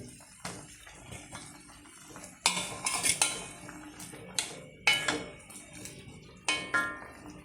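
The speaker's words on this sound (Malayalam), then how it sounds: "ചക്ക വലിയ ചുളയായിട്ട് എടുത്ത് വെച്ചിരിക്കുകയാണ് അത് നമുക്ക് അതിലോട്ട് ഇട്ട് കൊടുക്കാം" Large pieces of raw jackfruit go into a cooking pan with a series of sharp metallic clanks and utensil knocks, spaced irregularly against a quiet kitchen background.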